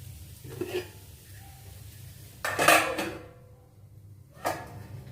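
Spinach stir-fry (cheera thoran) being mixed in a pan, with a few scattered metallic clinks and scrapes of a utensil against the pan, followed by a louder clank as the lid is set on to cover it.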